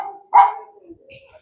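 An Alsatian lying at a house gives a single loud bark near the start, followed by quieter murmurs and faint background sound.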